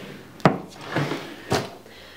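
A makeup storage drawer in a makeup room is handled, producing three distinct wooden knocks and slides, the first sharp, the others softer, spaced about half a second apart.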